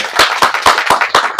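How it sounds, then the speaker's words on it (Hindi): About six loud, close hand claps mark a call for applause for filmmakers at an Indian film festival event. They come at a steady, fairly quick rhythm. "तो प्लीज़ इन फिल्म मेकर के लिए तालियां हो जाए।"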